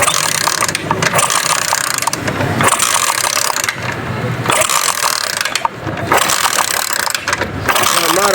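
A China 70cc motorcycle with an engine-missing fault and loose coil and plug wiring is kick-started again and again, giving loud rhythmic mechanical ratcheting bursts about every second and a half, with brief quieter gaps and faint voices.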